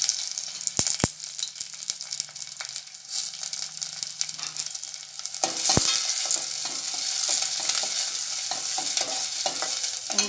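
Onion and curry leaves fry in hot oil, opening with a few sharp spoon clinks over a light sizzle, then bursting into a loud, dense, crackling sizzle as they hit the pan, close up and without talk.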